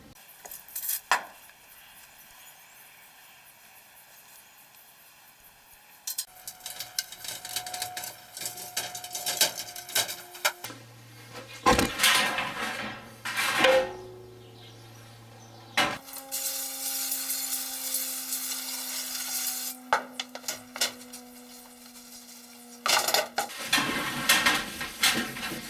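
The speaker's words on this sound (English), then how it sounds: "we've got to clean out the magnets, clean up the pan, take off this gasket" Metallic clinks, scrapes and rattles ring out as a Toyota Corolla A240L automatic transmission pan and its magnets are cleaned, with intermittent bursts of wiping and handling between quieter pauses.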